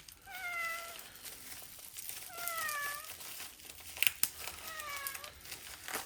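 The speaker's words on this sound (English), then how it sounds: "you've got the squeakiest meow" A cat meows three times, high and squeaky, spaced a couple of seconds apart, over faint background noise and a brief crinkle.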